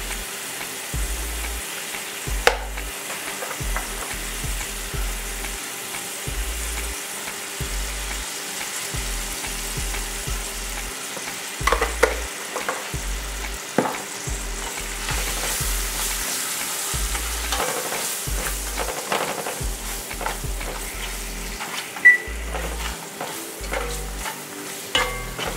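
Garlic, onion and curry powder frying in a pot for Jamaican curry shrimp, giving a steady close sizzle with periodic stirring scrapes and clanks, no talking.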